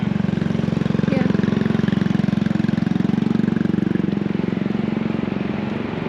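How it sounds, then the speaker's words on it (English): A two-stroke twin motorcycle engine runs at a vintage motorcycle swap meet, a loud, steady, close buzzing drone with a rapid pulsing beat that eases slightly near the end. "It's a two-stroke twin."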